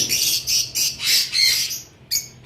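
A pair of blue Fischer's lovebirds giving repeated sharp, shrill squawking calls in short bursts, close and loud, with brief pauses between calls and no talking.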